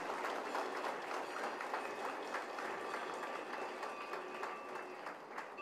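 Audience applause at a ceremony in the Quan Su Pagoda in Hanoi: steady, dense clapping from a crowd, continuous and fairly even for several seconds with faint voices mixed in.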